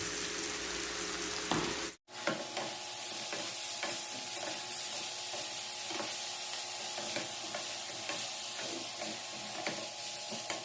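Chopped vegetables for pinakbet tossed into a hot pan with softened tomatoes, a dense continuous sizzle with scraping stirs, briefly cut off near the start and then steady.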